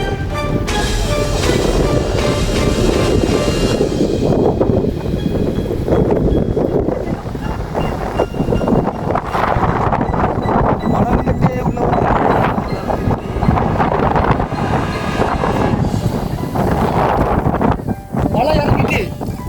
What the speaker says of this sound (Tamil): பெரிய சுழல் போகுது பாரு